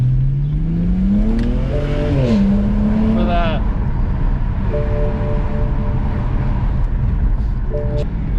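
A stock 2008 BMW 335xi engine revs up and settles inside the car, its pitch rising and falling across a steady loud drone, while people talk over it.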